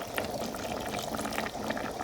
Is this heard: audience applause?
no